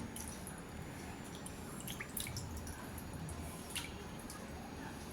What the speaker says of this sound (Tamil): ஒரு பவுலில் வாட்டர் எடுத்து கம்ப்ளீட்டாக ஃபுல்லாக உள்ள வயிறு போர்ஷனு எல்லாம் கம்ப்ளீட்டாக க்ளீன் பண்ணி